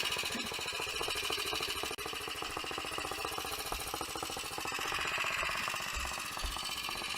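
Motorcycle engine idling near a small church in Shelton, a fast steady mechanical chugging that runs continuously and fairly quietly, with a couple of faint low clunks near the end as the rider works the gear.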